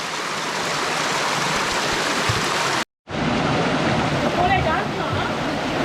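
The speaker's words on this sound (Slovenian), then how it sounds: "Dež dol pada, oziroma ne dež, voda kapla." Steady rushing, splashing water drips down throughout, broken by a brief silent gap, with a voice faintly present beneath the noise, in Jordan.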